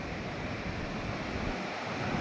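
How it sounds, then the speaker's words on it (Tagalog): Sea waves wash onto the shore at a beach resort in San Juan, La Union, a steady rushing surf mixed with wind noise on the microphone, with no one talking. "Kikita mo ng dagat dito."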